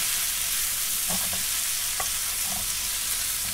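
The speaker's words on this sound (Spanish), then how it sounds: "Pasamos a mezclarlas muy bien con ayuda de una cuchara o de una espátula para que se integre toda la patata con el salteado de pimientos y cebolla." Potatoes are stirred with sautéed peppers and onion in a frying pan, a continuous hiss of sizzling oil broken by a few soft scraping knocks of a spoon or spatula, close and without talk.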